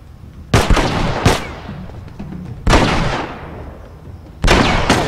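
Gunfire in The Last of Us, loud sharp shots in quick clusters, each followed by a booming echoing tail, with no talk.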